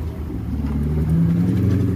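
An Infiniti G35 with a swapped LS V8 rumbles close by, its deep engine note rising slightly in a short rev.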